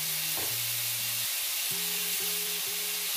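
Salmon fillet sizzling face down in a hot pan for grilling, a steady broad hiss of frying throughout, with faint musical tones running underneath and no voices.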